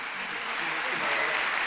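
A theater audience at a themed gala evening applauds steadily, a dense wash of clapping that holds at an even level and swells slightly toward the end.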